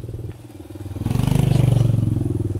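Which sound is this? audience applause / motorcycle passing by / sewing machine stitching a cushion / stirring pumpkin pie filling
motorcycle passing by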